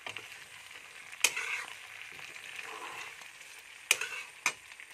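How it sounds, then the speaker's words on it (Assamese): Chicken pieces stirred in a hot frying pan for an Assamese chicken curry, giving a steady close sizzle with a few sharp clatters of the spoon scraping the pan. "এয়া মাংসখিনি এতিয়া মই অকণমান হিলাই দিম।"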